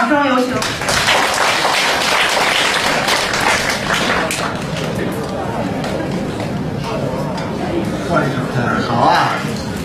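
A crosstalk comedy audience in a teahouse claps to welcome the performers, close, rapid, dense hand claps with thumps and crowd murmur running throughout.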